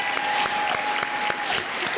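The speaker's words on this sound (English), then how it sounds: "We'll give it one more beautiful round of applause." Steady applause from a crowd, dense clapping filling the whole stretch with a few sharper claps standing out, loud and close.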